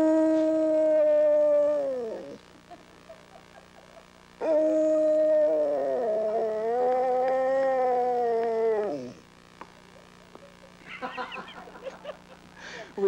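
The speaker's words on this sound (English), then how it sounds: "We have no idea what that dog was howling at." A dog howls in long, wavering, sustained notes: one howl of about two seconds, then a second longer howl, followed by a few short yelps. The sound is close and clear, with no talking.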